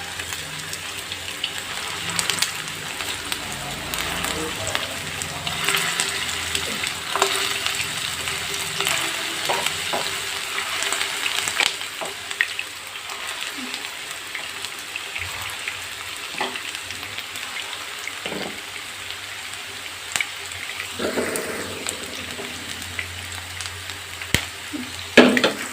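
Beef koftas frying in hot oil for a kofta curry, a steady crackling sizzle with occasional clinks and scrapes of a utensil in the pan, no talking.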